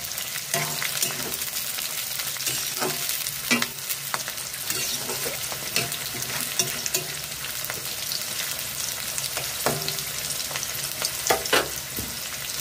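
Garlic cloves fry in hot oil in a pan for garlic pickle, stirred now and then, giving a steady close sizzle broken by scattered scraping and clinking strokes, with no talking.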